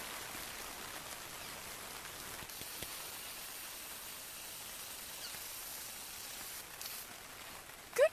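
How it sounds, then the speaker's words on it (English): Heavy rain drums steadily on a tent in the wild, a constant dense hiss with no talk, ending in a brief sharp knock. "it's currently pissing down with rain outside"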